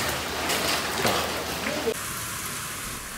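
Heavy rain from the remnants of storm No. 9 pours down on a flooded street in Ho Chi Minh City. The downpour makes a loud, steady hiss of dense drops with a few louder splashes near the middle.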